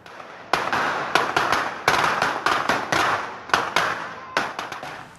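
Loud jumbo firecrackers burst on streets in an irregular volley, sharp cracks going off one after another with brief gaps, echoing outdoors.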